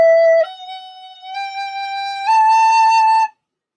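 A recorder plays a short legato passage of four notes stepping upward, each sliding smoothly into the next without breaks, clear and close, ending abruptly into silence.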